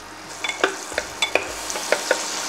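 Half an onion fries in melted butter in a pan for sweet corn soup, a soft sizzle under sharp, irregular clicks and scrapes of stirring.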